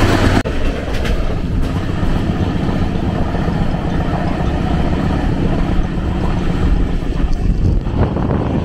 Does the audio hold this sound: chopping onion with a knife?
no